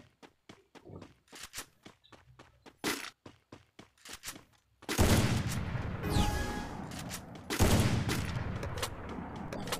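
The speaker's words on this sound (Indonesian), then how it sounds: "sniper nih guys kita akan memakai sniper" Gunfire in the Free Fire battle royale game, first sharp separate shots in an uneven rhythm, then a loud dense burst of firing and battle noise, with no voices.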